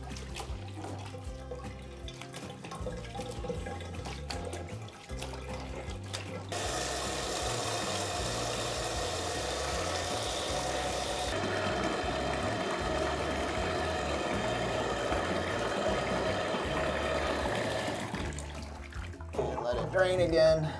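Soapy water drains from a bathtub after a down quilt is washed, a steady rushing gurgle that swells midway and runs on, with low mechanical noise underneath and a voice heard briefly near the end.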